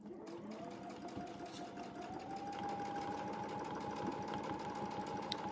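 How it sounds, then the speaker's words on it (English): A domestic sewing machine stitching along a Westalee clamshell template, a steady close mechanical whir with rapid needle ticks that rises slightly in speed partway through, with no talking. "So just sew until you touch."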